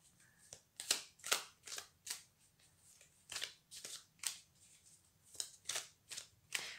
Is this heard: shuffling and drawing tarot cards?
yes